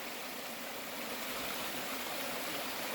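A stream flows steadily along the soggy Appalachian Trail in spring, giving a continuous close rush of water with no talking over it.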